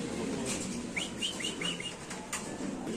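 Pigeons in a loft or cage flutter their wings and give a few soft chirping calls over a steady background hum.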